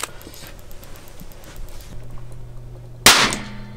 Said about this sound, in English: Your rocket just blew up.